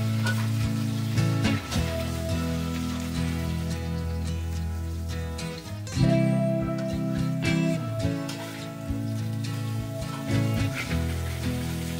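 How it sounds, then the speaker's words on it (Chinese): Slices of bitter gourd sizzle steadily in hot cooking oil in a pan, with a loud, continuous frying crackle close by and occasional stirring sounds. "将苦瓜稍微煎一下"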